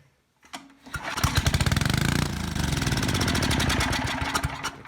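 A Tecumseh engine on a 4000 watt Wilco generator is pulled over, coughs to life and runs at a steady, loud, slightly uneven chug for several seconds, close by with no talk.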